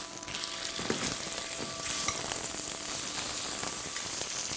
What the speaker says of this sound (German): das haben wir jetzt auf beiden Seiten gut anbraten.